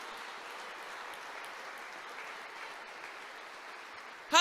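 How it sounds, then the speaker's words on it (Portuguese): A church congregation claps steadily in a broad, even wash of applause during a sermon, continuing throughout, with a sharp brief sound right at the end. "Pode aplaudir o Senhor em nome de Jesus."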